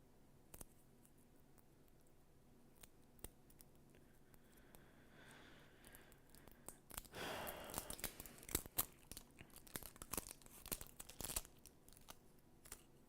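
Tape is peeled off a computer SSD in a Mac repair, heard as faint crinkling and tearing crackles that build into a denser burst of sharp ripping and crackling, close and quiet.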